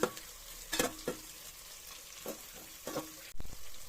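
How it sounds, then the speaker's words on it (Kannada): Onions fry in a pan for smoky dum biryani, a soft sizzle broken by several stirring scrapes and clatters, close and fairly quiet, with a sharper knock near the end. "ಈರುಳ್ಳಿ ಚೆನ್ನಾಗಿ ಫ್ರೈ ಆಗಬೇಕು."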